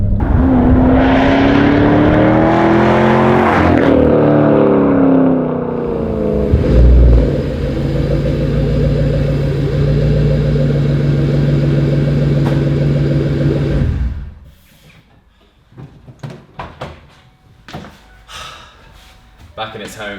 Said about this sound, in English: it's loud, it's fast, it's fun